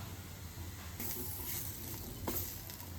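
Chopped potato, carrot and green beans go into a hot pan for an egg stew, giving a soft, faint sizzle that swells with brief hissing bursts as the pieces land and are stirred.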